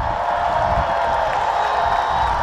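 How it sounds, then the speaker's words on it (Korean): Concert audience at a live outdoor festival stage roaring with sustained cheering and applause, a dense, even wall of crowd noise holding steady throughout. "여러분 함성 박수!"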